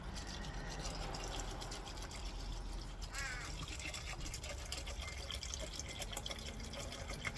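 Distilled water pours into a measuring container for homemade fabric softener, a quiet, steady trickle and splash close by, with faint clinks and no speech.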